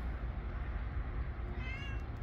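A cat meows a couple of times, fairly quiet and close, over a low background rumble.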